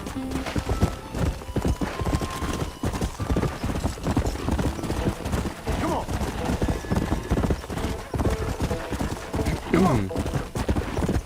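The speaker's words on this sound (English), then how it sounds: "esse cavalo aqui é o mais rápido e mais forte" A horse gallops in Red Dead Redemption Remastered on PS5, with rapid, rhythmic hoofbeats pounding steadily throughout and a brief whinny, while voices talk over the game.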